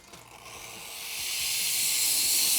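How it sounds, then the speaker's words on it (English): A steam cleaner nozzle forces steam into hotel HVAC vents, making a loud, steady hiss that swells in the first second and then holds continuously, close and unbroken. "the goal here is simply just to get a lot of heat, a lot of steam into the ventilation system"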